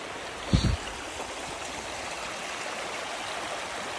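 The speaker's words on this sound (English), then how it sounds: "Let's just cross the river." Steady broadband rush of a deep river at a trail crossing on the Patagonia W Trek, continuous and close, with a brief low thump near the start and no talk.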